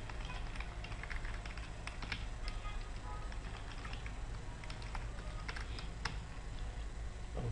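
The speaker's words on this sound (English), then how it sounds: "you type document.ready function" Steady clicking of keys on a computer keyboard as code is typed, a continuous close patter of keystrokes over a low background hum.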